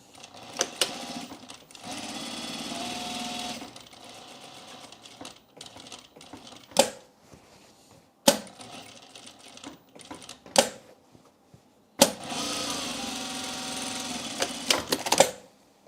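A sewing machine stitches fabric during holiday sewing in short bursts of rapid whirring, each separated by quiet pauses and sharp clicks as the stitch length is adjusted, close and clear with no talk.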